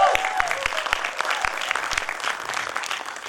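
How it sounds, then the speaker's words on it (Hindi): An audience claps for director Anshul at a short-film screening, a dense burst of applause that is loud at first and then settles into even clapping, with a voice briefly audible under it. "एक बार जोरदार तालियां अंशुल के लिए"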